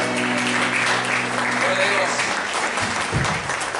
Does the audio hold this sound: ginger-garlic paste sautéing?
no